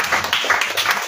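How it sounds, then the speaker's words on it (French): A congregation claps to glorify the Lord at a night prayer vigil, a brief, loud run of rhythmic hand claps. "On acclame pour glorifier le Seigneur"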